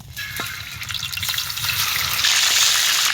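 Roast meat pieces marinated in milk and salt fry loudly in a pan, a close, continuous crackling sizzle with stirring scrapes that thickens into a brighter hiss toward the end.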